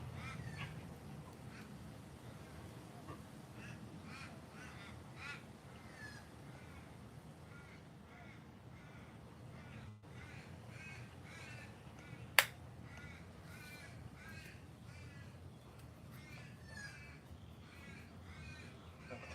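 Ravens give scattered harsh squawks and caws, quiet and fairly near, over a low background hum, with one sharp click partway through.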